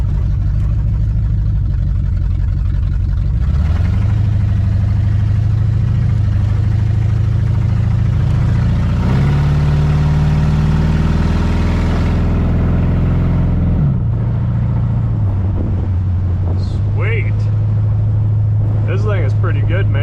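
A barn-find 1966 Pontiac 2+2 convertible with a 421 engine drives along, its low engine drone steady and close, rising in pitch briefly mid-run before settling back to a lower rumble.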